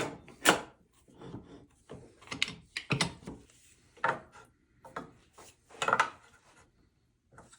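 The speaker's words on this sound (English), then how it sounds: "So I'm going to clamp it up first, and I'm going to see where I need to pull to get that completely square." Clamps are tightened on a walnut dovetail box, producing a series of scraping, creaking wooden rubs and clicks in irregular bursts, close and fairly quiet.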